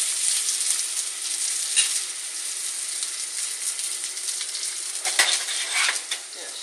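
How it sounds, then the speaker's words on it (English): Thin-sliced pork chops sizzle in about a tablespoon of oil, a steady bright frying hiss throughout with occasional faint pops and a brief utensil clink, close and alone with no talking. "Very thin sliced pork chops. I have about a tablespoon of oil in there, so I'm going to just lay them down"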